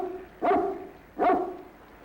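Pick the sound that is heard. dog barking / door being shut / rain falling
dog barking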